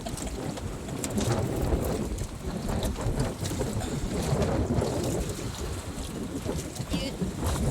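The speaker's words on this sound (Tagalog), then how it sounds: "Lakas ng hangin, alon." Strong wind roars across the microphone around a small fishing boat at sea in bad weather, with waves sloshing and splashing against the hull in a steady, loud, continuous rush.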